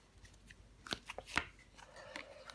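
Tarot cards are drawn and handled, making a few soft, quiet flicks and slides in short bursts with no talk.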